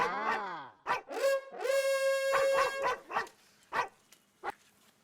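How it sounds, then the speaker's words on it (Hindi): Dog-bark ringtone playing on a mobile phone: a series of loud barks and a drawn-out howl, then shorter yips spaced apart and fading. "ये कुत्ता नहीं मेरे मोबाइल की रिंगटोन बज रही है।"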